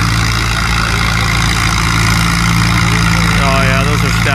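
An antique Super MTA tractor with stacked wheel weights roars loudly and steadily during a tractor pull. Its deep, heavy engine rumble runs the whole time, and a voice talks over it.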